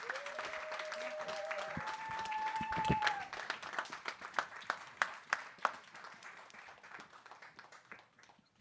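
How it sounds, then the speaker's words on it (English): An audience at a conference on ending TB in Africa applauds, a dense burst of clapping that thins into scattered individual claps and fades out, with a tone briefly sounding at the start. "Let's give another round of applause."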